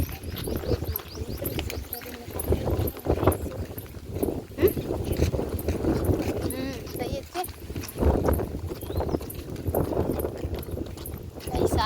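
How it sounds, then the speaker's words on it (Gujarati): Cows and buffaloes walk past on a village road, their hooves clopping irregularly on the ground at close range, with voices talking over the trampling and a few faint bird chirps. "તો ગાઈસ, ભેંસો પણ આવી અહીંયા"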